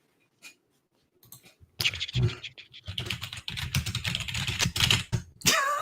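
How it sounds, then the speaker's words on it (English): Fast typing on a clicky, backlit mechanical keyboard, close and fairly quiet, a dense run of crisp key clicks after a few isolated taps. "I got one of those clicky mechanical keyboards"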